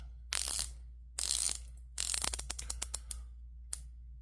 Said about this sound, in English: embossed ceramic bezel, which is beautiful. 120 click, crisp, nice.